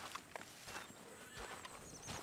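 A horse whinnies over the soft clip-clop of hooves, all faint and distant against a quiet outdoor background.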